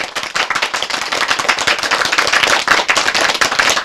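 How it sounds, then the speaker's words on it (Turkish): A crowd of villagers in Abiya village, Kütahya, applauding Çobanbaşı Sait, with dense, continuous clapping from many hands, loud and lively throughout, with no talking. "Sait'e bir daha bir alkışlıyorlar."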